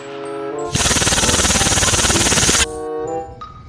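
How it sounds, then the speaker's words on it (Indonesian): An M4 rifle sound effect fires one sustained automatic burst of about two seconds, loud and close, with rapid evenly spaced shots over a steady ringing tone. "Dan yang ini tembakan M4."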